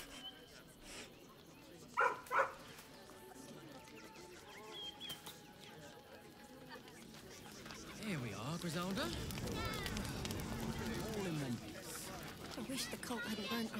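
A dog named Biscotti in Baldur's Gate 3 gives two short, sharp barks early on, followed by softer whimpering and yipping sounds over a steady ambient game background.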